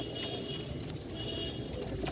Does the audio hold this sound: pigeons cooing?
yes